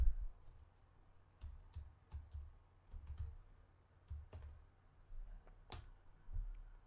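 Text typed on a computer keyboard, ending with a press of Enter: quiet, close keystrokes come in short, irregular bursts with soft clicks between brief pauses.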